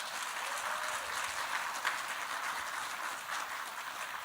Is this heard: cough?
no